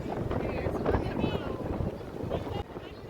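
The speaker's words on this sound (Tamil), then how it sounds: "அலையெல்லாம் பார்த்திங்கன்னா அந்த அடிக்கிற காற்றுல பெரிய பெரிய அலையாக ஹெவியாக வந்துட்டு இருந்தது" Strong wind roars across the open sea as big waves build and break, a loud continuous rushing that blends with faint indistinct voices and eases slightly near the end.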